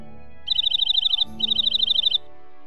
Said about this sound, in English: Hark! The shrill and gay bird song.